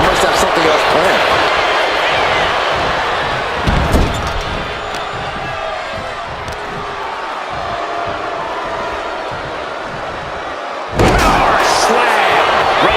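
A wrestling slam lands in WWE 2K25 inside a crowded virtual arena. Heavy impact thuds hit at about four seconds and again near eleven, over a loud, constant crowd roar.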